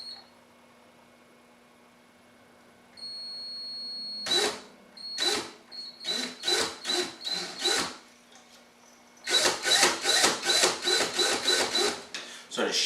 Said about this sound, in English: I'm just going to put that in the drill and start to do my Clapton.